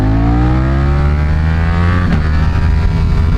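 Honda Grom motorcycle engine revving steadily while riding, its pitch climbing as it accelerates through the gear, with a brief shift near the end; loud, close and continuous, with wind noise behind it.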